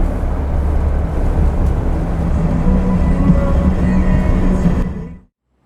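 A 1964 Volkswagen Beetle California Bug with Empi parts rolls along Howell Prairie Road in the countryside, its steady low engine drone and road rumble constant and close for about five seconds before cutting off abruptly.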